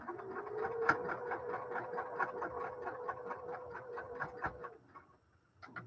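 Sewing machine stitching a quarter-inch seam on a quilt block, a steady rapid mechanical whirr running close and continuous for most of the stretch, then stopping near the end.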